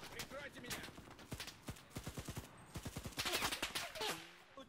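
Rapid bursts of AKM rifle fire from the game Enlisted crack out in quick strings of shots, punctuated by short pauses, with talk and other game sounds mixed in.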